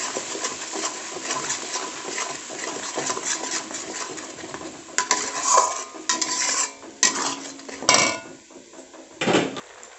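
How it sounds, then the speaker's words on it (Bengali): Ground chilli paste fried and stirred in a pan for chicken leg curry, with clinking metal spatula scrapes against the pan over a low background sizzle, sharper knocks toward the end, no talk. "ভালো করে কষিয়ে নিতে হবে।"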